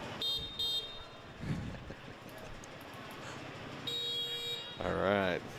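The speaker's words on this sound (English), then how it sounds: "You could hear their horns as they were coming off the track there. Just all beeping at each other." Horns on race cars beep back and forth as they come off the track at an indoor racing series, several tonal honks sounding at the start, midway and near the end over crowd noise and talk.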